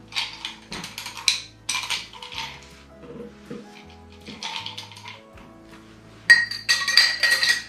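Old fashioned glasses clink and rattle while the excess water is emptied out of them during cocktail preparation, giving a run of close, bright glass clinks with soft water sounds in short bursts, ending in a busier cluster of chimes.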